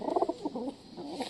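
Soft, low cooing of a pigeon, a short burst of throaty murmurs at moderate distance, faint and without speech.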